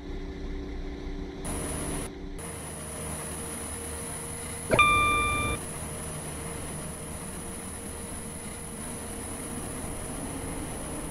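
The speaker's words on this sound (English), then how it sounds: "Welcome aboard this WaterLine train to Benton." A steady rumbling hiss of a two-coach WaterLine train running to Benton in a video game, with a brief sharp tonal chime midway, continuing evenly throughout without speech.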